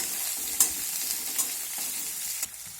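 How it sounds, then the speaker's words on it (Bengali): Chopped onion frying in a pan until browned, a steady close sizzle with a few sharp scraping stirs of a spatula breaking through at intervals. "পেঁয়াজটাকে আমি এবার লাল করে একটু ভেজে নেব।"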